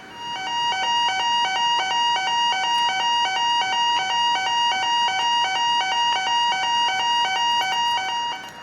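A fire and evacuation alarm rings continuously, a loud pulsing electronic tone repeating in rapid even beats, steady from start to finish with no voices.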